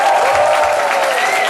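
A church congregation cheers and claps together in a dense, loud burst of applause that stays steady through the brief moment.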